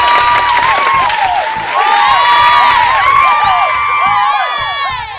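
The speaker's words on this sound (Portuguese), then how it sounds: "E muitas palmas aí ainda, galera, do estúdio." A studio audience claps and cheers on a Brazilian talk show, with dense, sustained applause, whoops and shouts filling the space, loud and continuous throughout, swelling slightly in the middle before easing at the end.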